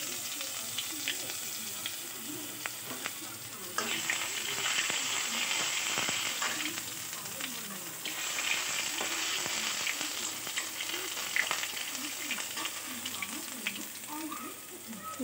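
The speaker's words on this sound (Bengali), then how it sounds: "এবারে দিয়ে দিচ্ছি জিরা আর 5 ফোড়ন। দিয়ে দিচ্ছি রসুন বাটা," Cumin, panch phoron and garlic paste fry in hot oil with a steady soft sizzle and hiss, plus occasional scraping stirs, heard fairly quietly.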